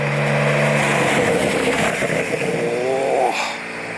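A Porsche at a car meet revs hard, a loud close engine roar that holds steady, rises and falls in pitch, then settles back toward a lower idle.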